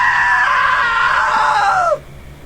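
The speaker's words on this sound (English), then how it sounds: "Now that was a great scream." A loud, sustained scream in the video game What Remains of Edith Finch, holding steady for about two seconds before cutting off abruptly into quiet.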